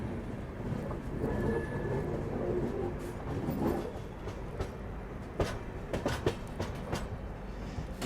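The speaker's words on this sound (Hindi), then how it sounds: "फाइनली अपना डिपार्चर हो रहा है बेंगलोर के SMVT रेलवे स्टेशन से" A train rumbles low as it pulls away from Bengaluru's SMVT railway station, then wheels clack and knock rhythmically over the rails, fairly near, without talk.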